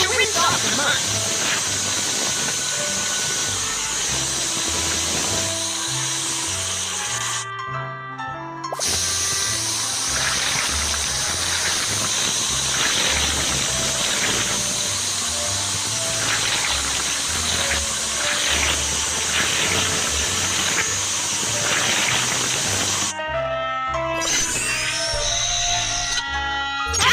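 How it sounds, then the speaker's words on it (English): Water sprayer hissing steadily as it rinses mud off a bus at a car wash in a Baby Bus kids' game, with cartoon background music underneath and two brief breaks. "drag the water sprayer to rinse off the mud"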